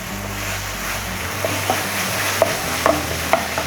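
Masala mixed with a teaspoon of tomato sauce fries in a pan for chicken chukka, giving a steady close sizzle, a low rumble, and several scraping stirs and light clinks of a spoon against the pan.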